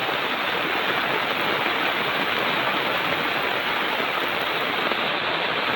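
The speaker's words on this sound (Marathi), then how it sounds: "आता पाऊस एवढा जोरात लागतोय ना" Heavy rain pours down steadily during crab catching in the Konkan countryside, a dense, loud, unbroken hiss of falling water with no pauses and no voices.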